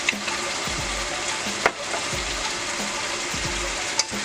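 Chicken being stirred in a cooking pan for pineapple chicken in coconut milk, with a steady broadband sizzle and repeated low scraping strokes of the spoon every second or so, close and fairly loud, with no talking.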